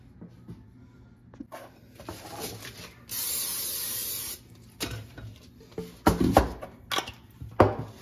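Cooking spray greasing a cheesecake pan: a single sustained close spray hiss lasting about a second, bracketed by soft handling clatter and rustling of the pan and baking tools.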